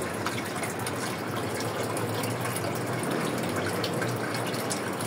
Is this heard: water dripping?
yes